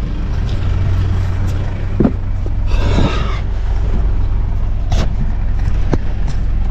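Heavy equipment machine being driven after repair and greasing, its engine running steadily nearby with a few clanks and a brief hiss, no speech.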